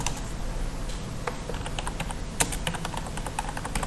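Rapid, light keystrokes on a computer keyboard tap out an uneven rhythm, close and fairly quiet, with one sharper key strike.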